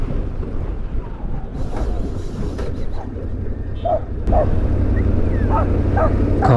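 Several sharp dog yelps and barks during a fight in Kenya ring out over a constant loud rumble, scattered irregularly and coming from a short distance.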